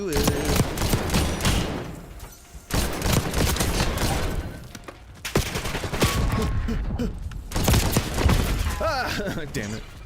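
Heavy automatic gunfire in Call of Duty, bursts of rapid shots and sustained fusillades filling the mix at close range, with brief thuds between volleys and voices sometimes audible underneath.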